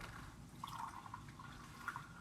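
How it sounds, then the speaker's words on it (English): Vinegar poured into a volcano experiment, faint close dripping and splashing with a few brighter drops over a low steady background. "I'm pouring the vinegar in."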